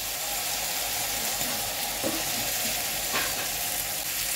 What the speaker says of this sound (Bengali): আমি যে মশলাটা পিষে রেখেছিলাম সেই মশলাটাই মধ্যে দিয়ে দিচ্ছি